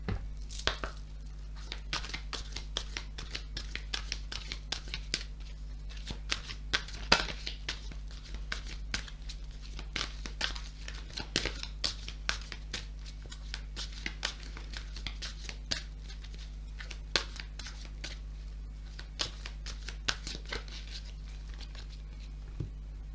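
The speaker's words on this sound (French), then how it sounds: "on va tirer quelques cartes de la sagesse de l'oracle" Oracle cards being shuffled and drawn make soft, rapid papery flicks and taps, faint and close, repeating irregularly over a low steady hum.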